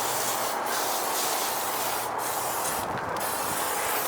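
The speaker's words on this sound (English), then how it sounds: "So I'm gonna spray." Oil is sprayed onto the grates of a Kamado Joe Classic kamado grill in a few short, hissing bursts over a steady background of broad noise, with no talking.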